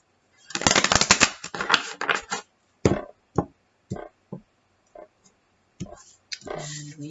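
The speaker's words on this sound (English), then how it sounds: "one more shuffle" Tarot cards being shuffled by hand in quick papery riffles and taps, a dense burst early on followed by scattered separate clicks and flicks, close and fairly quiet, with a little talk near the end.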